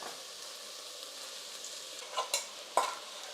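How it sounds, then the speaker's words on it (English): A mixture of masoor dal and rice goes into a hot frying pan for bhuna khichri, giving a soft steady sizzle with a few brief scraping and stirring clacks near the end. "You can now put the mixture of masoor dal and rice slowly in that."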